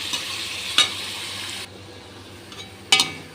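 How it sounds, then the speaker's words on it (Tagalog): Shrimp sauté with browning garlic and ginger in a pan, giving a soft continuous sizzle with a few sharp utensil clinks and stirring scrapes, and the frying hiss drops lower partway through. "I-brown natin konti bago ilagay yung hipon"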